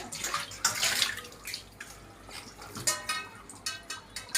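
Water splashes and trickles in short, irregular bursts close by, like dishes being rinsed under running water, with no one speaking.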